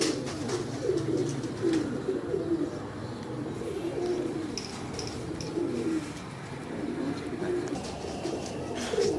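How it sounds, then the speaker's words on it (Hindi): Teddy pigeons coo repeatedly at close range, their soft, throaty calls overlapping in an ongoing rhythm over faint background noise. "ये देखें, ये इनके घर के जो है वो टेडी कबूतर हैं।"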